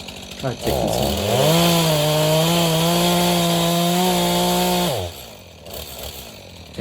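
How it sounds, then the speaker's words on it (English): A chainsaw cutting a tree revs up and holds a steady, loud whine for about four seconds, then cuts off abruptly; it is close by. "Tried taking some more out with the chainsaw"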